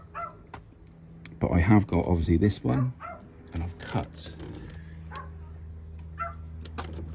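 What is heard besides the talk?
dog barking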